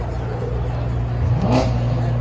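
A naturally aspirated 700-horsepower V12 car engine revs once, rising in pitch over a steady low idle, close and loud with crowd and outdoor noise around it at a Canadian Grand Prix event.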